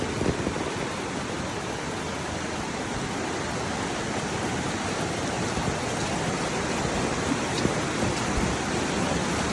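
Floodwater rushes after heavy rain in a continuous broadband roar, steady and fairly close, with no voices over it.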